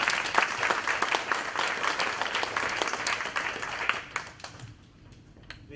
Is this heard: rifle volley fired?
no